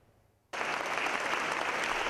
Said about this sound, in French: Des applaudissements nourris